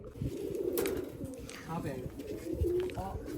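Pigeons, apparently being gathered into a net, coo in soft low repeated calls with a few brighter chirps, set against steady background noise and faint voices.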